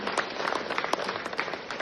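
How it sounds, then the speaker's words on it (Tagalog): An audience at a Climate Change Task Force regional gathering in Zamboanga Peninsula claps in a steady, moderately loud round of applause lasting the whole moment, with no voices over it. "A round of applause, please."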